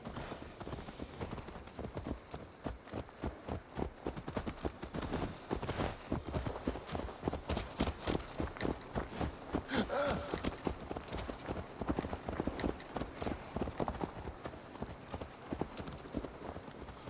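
A horse in Assassin's Creed Valhalla clip-clops steadily in a fast, even hoofbeat rhythm that runs the whole time, close and clear, while voices talk over it.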